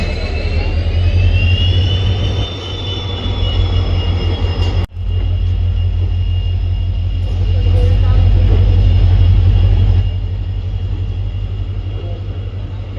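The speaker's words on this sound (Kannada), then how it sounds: "ನೋಡಿ, ಪ್ಲಾಟ್ಫಾರ್ಮ್ ನಂಬರ್ 5 ಇಂದ ಡಿಪಾರ್ಟ್ ಆಗ್ತಿದೆ ಯಶವಂತಪುರ ವಿಜಯಪುರ ಎಕ್ಸ್ಪ್ರೆಸ್." Indian Railways Yeshwantpur–Vijayapura Express pulling out of platform 5, hauled by a KGM-based WDP 4D diesel locomotive: a steady loud diesel drone with a high whine runs continuously near the platform, with a brief dip midway.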